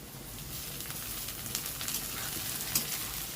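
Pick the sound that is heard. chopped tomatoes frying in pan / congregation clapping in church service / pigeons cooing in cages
chopped tomatoes frying in pan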